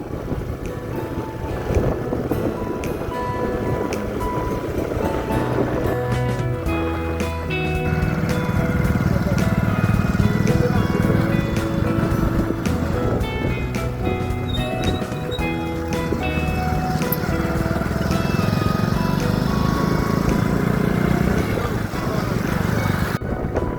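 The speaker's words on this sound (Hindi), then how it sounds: "हम बाइक पे जा रहे हैं।" A motorcycle rides along a village road in Rajasthan, with heavy wind buffeting the microphone over a continuous low engine drone and faint background sounds.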